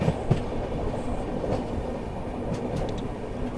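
A Kanchankanya Express passenger train rolls along the rails near Aluabari Road junction toward Bagdogra, a steady, close rumble of wheels and carriage from the inside, with faint clicks of track joints and no talking.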